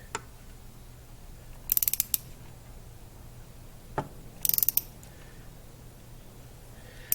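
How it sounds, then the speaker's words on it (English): An angled ratchet turns a bolt during an oil change on a 2018 Ford Edge Sport with a 2.7L EcoBoost V6, producing two short bursts of rapid, crisp clicking separated by quiet pauses, close by and with no voices. "I like this angled ratchet."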